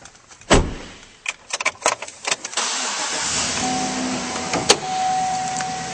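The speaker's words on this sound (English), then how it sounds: "Now we'll start up this truck." A 2011 GMC Sierra 1500 pickup truck gives a few close clicks and thumps, then its engine cranks and catches, settling into a steady, even idle with no one talking.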